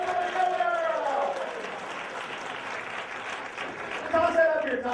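An audience claps and cheers for a showgirl. The steady mid-level applause runs the whole way through, and a speaking voice rides over it at the start and the end.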